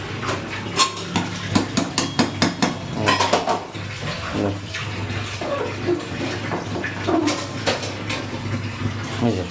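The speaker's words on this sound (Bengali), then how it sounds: "এই যে কড়াইটা সোজা করে দিলাম" A metal cooking wok being handled and repositioned while goat meat curry simmers, giving a run of close, sharp clanks and scrapes of metal against metal, busiest in the first few seconds, with no talk.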